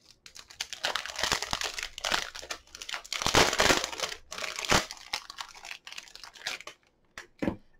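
Packaging from an autumn unboxing parcel crinkles and rustles up close in irregular bursts, with sharp crunches and tearing sounds and brief pauses in between. No one speaks.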